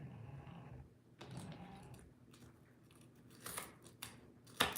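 A small steak knife slices through green peppers on a cutting surface in a home kitchen, giving a few crisp, crunchy cuts in uneven bursts with quiet pauses between them.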